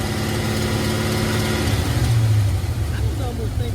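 A box Chevy with a newly installed cam idles close by, a steady, loud low rumble with a lumpy pulse that fades slightly near the end.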